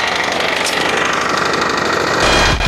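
The engine of a garden vegetable planter machine runs loud and close with a rapid, continuous chugging knock, growing heavier just before the end.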